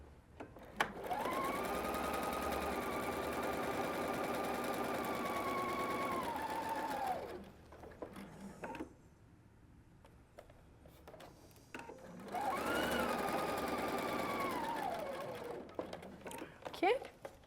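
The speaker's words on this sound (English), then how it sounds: "Put my foot down, and I'm going to sew all the way up to my other circle." A sewing machine runs in two long, steady bursts, sewing a seam at a 3/8-inch allowance between marked circles on an inseam pocket with French seams, with a quiet pause between the runs.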